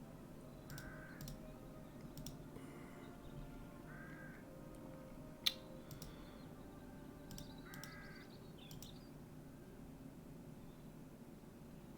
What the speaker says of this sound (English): A crow or something.